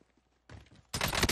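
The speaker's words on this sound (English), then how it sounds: "Nail gun, dude." Nail gun fire in Call of Duty Warzone: after a near-silent start, a first volley of rapid shots breaks out, then a louder, denser burst of close automatic fire that continues to the end.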